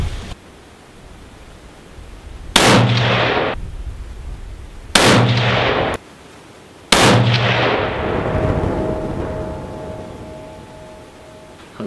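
Three loud shots from a Savage Axis hunting rifle outdoors, spaced about two seconds apart, each a hard crack with a decaying echo tail; the last one rings out longest.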